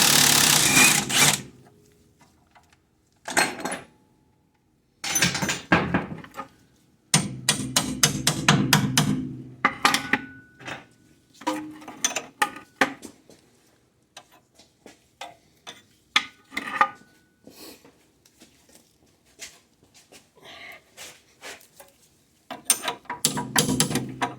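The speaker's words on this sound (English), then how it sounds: "I usually like to spin it few like this, so get all the rust off, and then I remove the nut." Near, loud clicking and whirring as a rusty axle nut is spun by hand on a Honda Accord CV axle and then removed. The noise comes in uneven bursts broken by short pauses.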